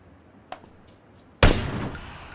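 A single loud gunshot rings out in PUBG, fired at a tree, with a sharp crack followed by a decaying tail after a quieter earlier click, and no talking over it.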